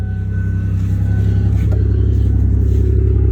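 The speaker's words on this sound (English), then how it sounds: "We'll get in here and start this thing up." A 2007 Chevy Monte Carlo engine runs with a steady, loud low rumble and a slight swell as it revs, close by and with no talking over it.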